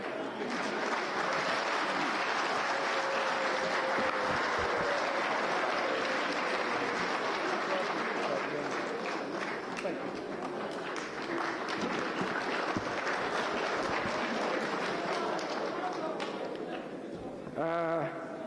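Audience at a meeting with leaders from Central Kenya breaks into sustained, loud clapping and cheering that fills the room for the whole stretch, then fades out near the end as a voice comes in.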